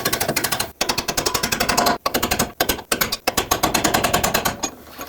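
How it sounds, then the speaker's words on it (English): Rapid, continuous clicking of a 21mm ratcheting wrench turning a nut on a rear upper control arm of a 2007–2009 Saturn Aura, close up, in quick bursts separated by brief pauses between strokes. "21mm wrench on the nut side"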